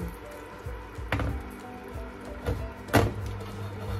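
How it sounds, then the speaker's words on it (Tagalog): A little water is poured into a cooking pan while fish and vegetables are sautéed, giving a few brief splashy pours and drips that are fairly faint over soft background noise. "So, lagyan natin ng konting tubig."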